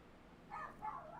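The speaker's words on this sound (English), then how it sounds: "Can you guys hear my dog?" A dog barking indoors in a room, two short muffled barks in quick succession, faint and somewhat distant.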